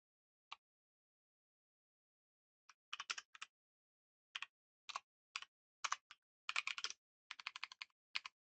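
Quiet, close computer keyboard typing while writing code, coming in short irregular bursts of crisp key clicks separated by pauses, with no talking.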